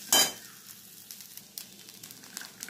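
Flattened rice (chira poha) fries with turmeric and salt in a pan: a sharp loud burst at the start, then a low, crackling sizzle with light stirring scrapes.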